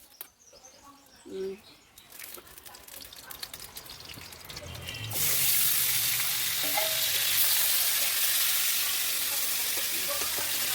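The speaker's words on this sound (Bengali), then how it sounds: "তেল দিয়ে পটলগুলো একটু ভেজে নেব" Pointed gourd slices frying in oil in a wok, a soft quiet stretch with faint clatter giving way to a steady, loud broadband sizzle that holds to the end.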